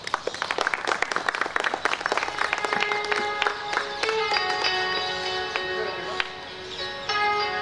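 A crowd at a magic show, part of an awards event at Geeta Bhavan, claps in dense, bright rapid bursts that stay steady and loud throughout, with a few clear tonal notes sounding alongside.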